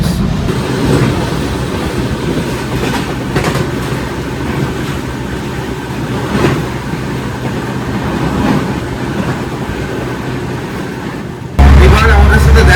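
The Himgiri Express, train 12332 from Jammu Tawi to Howrah, rolls past close by in a loud, continuous rumble of wheels and carriages for about twelve seconds before the sound cuts off sharply.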